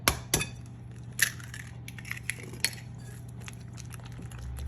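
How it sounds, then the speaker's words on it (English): Eggs are mixed into ricotta in a bowl for a savory Italian cheese torte, with scattered clinks and scrapes of a utensil against the bowl over a quiet, low background hum, and no voices. "Now we're going to add 3 eggs, 1 at a time, and just mix them thoroughly."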